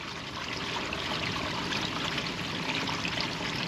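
Water and waste rush steadily from an RV black tank as the dump valve is opened, a continuous close gushing and trickling pour with no break across the stretch.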